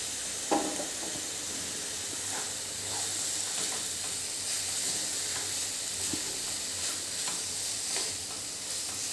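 Black-eyed pea curry with spices stirred in a pan over steady frying sizzle and hiss, with a few soft scrapes of the spoon, close and continuous.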